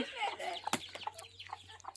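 Chickens cluck in short, scattered bursts close by, with a brief sharp call partway through and a low steady hum underneath.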